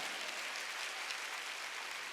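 A church congregation at a Wednesday worship service claps together in a steady, even patter, heard faintly and at a distance as a continuous wash of hands throughout.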